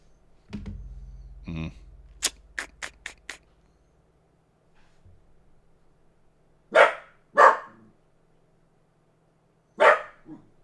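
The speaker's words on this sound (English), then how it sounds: "what are we barking?" A dog barks loudly a few times, separated by pauses, after some clicks and rustling nearby.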